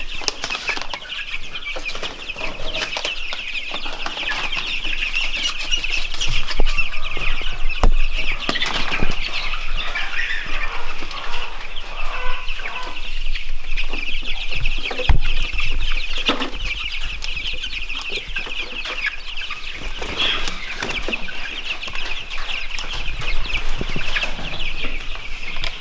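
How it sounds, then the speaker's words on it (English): Chicks and turkeys crowd a pen together, a steady busy chorus of peeping, clucking and wing flapping that holds at close range for the whole stretch, with no talk over it. "They got 160 chicks"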